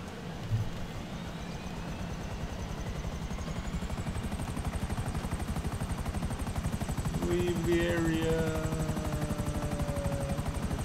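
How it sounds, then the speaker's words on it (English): A helicopter in GTA 5 Online flies with a steady, loud rhythmic rotor chop and engine drone throughout, a little distant tone shifting near the end. "Thank God I have a magic helicopter."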